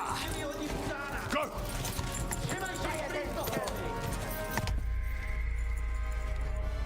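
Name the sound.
horse hooves trotting in Kingdom Come: Deliverance II video game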